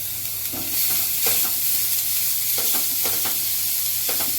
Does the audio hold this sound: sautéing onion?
yes